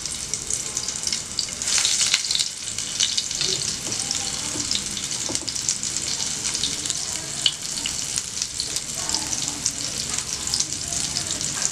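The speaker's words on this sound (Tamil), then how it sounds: "இது மாதிரி ஷேப் பண்ணி எண்ணெயில் போட்டுடலாம். மீடியம் ஃப்ளேமில் ஃப்ரை பண்ணி எடுத்துக்கோங்க." Cauliflower chicken patties sizzle in oil on a medium flame, a dense, constant crackling hiss close by that runs without a break, with faint clinks mixed in and no voices.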